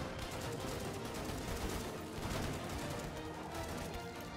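Rapid gunfire in the co-op zombie shooter Killing Floor 2, a dense continuous barrage of shots and crashes, loud and unbroken throughout with no talk.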